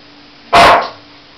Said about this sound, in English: Sphinky, you're just throwing those barks at him.